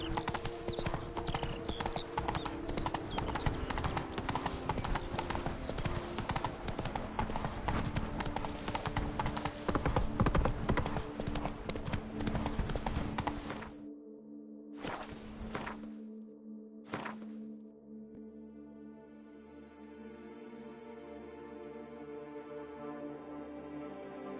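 Horse galloping in The Witcher 3, a loud rapid clip-clop of hooves with game ambience for about fourteen seconds, then cutting out to brief bursts and a quieter musical tone.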